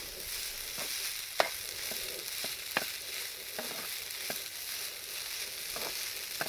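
Tomato omelette mixture with turmeric being stirred in a frying pan with very little oil: a soft continuous sizzle with several sharp scraping strokes of the utensil against the pan, close by.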